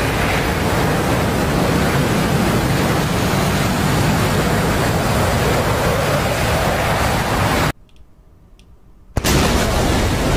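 An F-16C Viper jet in DCS World makes an afterburner flyby, a loud, broad roaring rush that fills the clip, cuts to near silence briefly, then returns at full strength.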